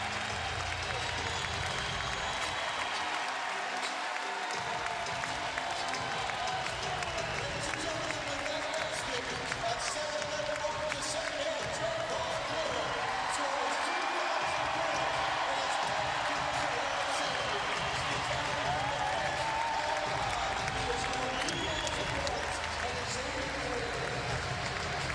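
A basketball arena crowd roars and applauds after Xavier's Trevon Bluiett scores his 2,000th career point, a loud continuous cheer that stays dense for the whole stretch, with a commentator's voice faintly beneath.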